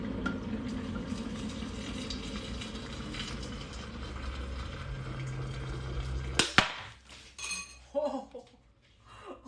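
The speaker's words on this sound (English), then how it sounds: "And now I will pour the hot water into here." Boiling water from a kettle is poured over a Thai tea ball into a pitcher, a hissing, gurgling pour that ends in a sharp clink, followed by soft clatter and faint talk.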